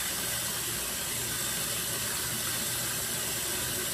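Sink tap running while hair is washed, a steady, close, broadband rush of flowing water that continues unchanged with no pauses.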